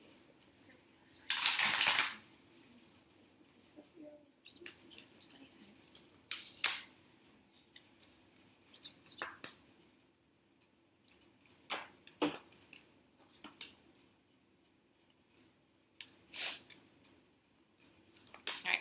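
A Doreen Virtue Romance Angel oracle deck is shuffled by hand in short, crisp riffling bursts separated by pauses, close and fairly quiet, with softer card taps and handling between them.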